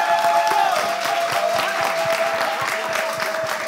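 Steady, dense applause from an audience, many hands clapping continuously at an even level throughout.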